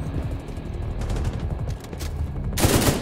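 An automated turret fires in the video game The Division 2, a steady stream of rapid shots under a busy battle mix, ending in a louder burst.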